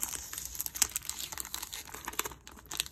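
Collector cards from a deluxe limited edition Batman Beyond Blu-ray set being unwrapped close up, with steady crinkling and tearing of plastic packaging broken by sharp little crackles and rustles.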